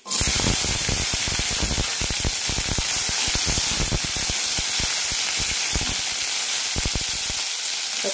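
About twenty small onions, with cumin and fenugreek seeds, sizzle loudly in hot oil in a pan for a drumstick onion perattu, a steady close crackling fry with dense popping throughout.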